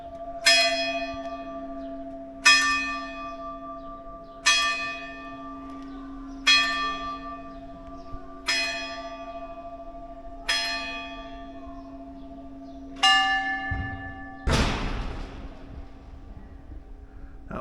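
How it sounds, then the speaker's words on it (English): Church bells ring in an Abruzzo town, eight evenly spaced loud strikes about two seconds apart with long ringing tones sustained between them, ending in a sudden broad noisy burst near the close. "Let's listen to the church bells in peace."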